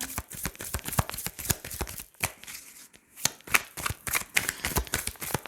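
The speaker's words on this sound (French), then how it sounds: "Alors j'ai envie de recouvrir certaines cartes." Tarot cards being shuffled and laid out, a steady run of quick papery flicks and slaps close by with a brief pause midway, no voice.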